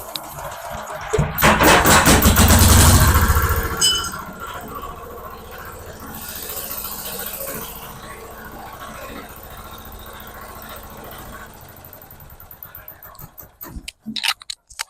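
A Usha 5 HP diesel engine cranks loudly for a couple of seconds, catches, then settles into a steady, moderately loud running chug with rattling, and stops near the end.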